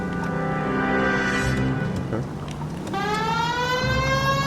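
A police siren from the video game L.A. Noire wails steadily and loudly through the whole stretch, dipping briefly in the middle before rising again, with someone talking over it.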